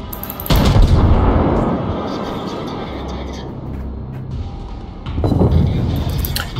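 Heavy booming naval gunfire from the German battleship Nassau in World of Warships, a loud blast at the start and another near the end, with a rumbling low roar sustained between.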